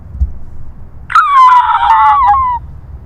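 A person's voice imitates a red-tailed hawk's call: one loud, drawn-out, hoarse descending scream of about a second and a half, heard alone and close.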